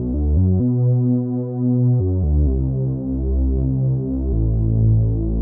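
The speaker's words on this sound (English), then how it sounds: "it's just kind of like a low pass bass. The notes slide between each other" A smooth, muffled low-pass synth bass plays a slow line of sustained low notes that slide into one another, steady and loud with no other sounds.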